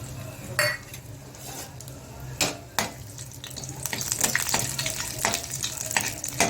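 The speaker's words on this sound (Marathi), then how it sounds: "आता त्याच्यामध्ये पहिले आपण ड्रायफ्रूट्स आहेत ते रोस्ट करणार आहोत।" Dry fruits roasting in ghee in a pan, a steady sizzle broken by clinks and scrapes of a spoon stirring against the pan, close and fairly loud.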